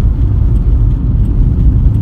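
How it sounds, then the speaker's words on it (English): A car engine accelerates to overtake a lorry, a steady low rumble and whir heard from inside the vehicle, loud and continuous with no talk. "I'll just speed up to get past that lorry there."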